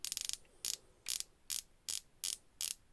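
Bursts of rapid, crisp ratcheting clicks repeat at a steady pace, about six turns in three seconds, close and small-sounding, as a dive watch bezel is rotated.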